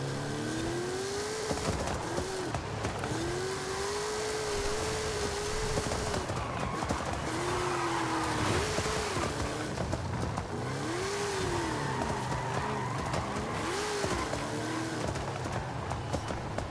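1970 Chevelle SS 454 with a four-speed racing in Forza Horizon 5, its V8 revving up and dropping back repeatedly through gear changes, loud and sustained under a busy race mix.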